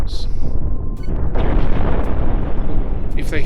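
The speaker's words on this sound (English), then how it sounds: "this is why I like the deck cannons. It's about the boom factor" Deck cannon shells explode in the spaceship game Cosmoteer, a dense, loud rumbling boom with crackling bursts, while a voice talks over it.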